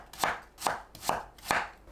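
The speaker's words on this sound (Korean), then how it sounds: "무는 한입 크기로 얇게 썰어주세요" A knife cuts radish into thin bite-size slices on a cutting board, four evenly spaced, crisp chops landing about every half second, close and clear with no talking.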